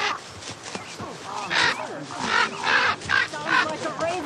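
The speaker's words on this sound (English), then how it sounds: "Sounds like a raven." A raven calls outdoors with a series of harsh, rasping caws in uneven bursts, fairly close, with people talking around the calls.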